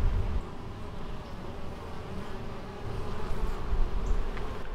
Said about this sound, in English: because too many bees inside